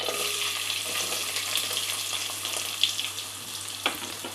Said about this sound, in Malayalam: ചെറിയുള്ളി നന്നായിട്ടൊന്ന് വഴഞ്ഞ് വരട്ടെ